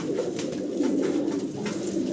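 Fancy short-faced pigeons coo close up in a steady, continuous stream of low, throaty calls with no talking over them.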